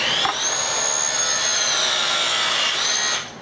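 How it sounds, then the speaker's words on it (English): A ProPress gun crimping a copper pipe fitting: a steady, loud motorized whine holds for about three seconds with a slight rise in pitch, then cuts off sharply, heard alone without speech. "Pro press gun"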